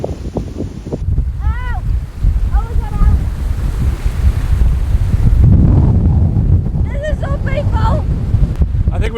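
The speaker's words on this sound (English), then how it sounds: "the wind progressively got worse. And worse." Strong wind roars across an open beach in Mexico, buffeting the microphone in continuous loud gusts with surf underneath, while faint voices and a few brief high chirps come and go.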